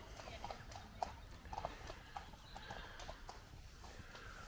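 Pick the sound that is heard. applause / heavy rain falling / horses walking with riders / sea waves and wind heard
horses walking with riders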